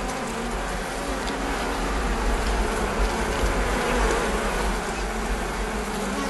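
Honeybees buzz densely around a beehive in a continuous, close, loud swarm drone that holds steady throughout, with no voices.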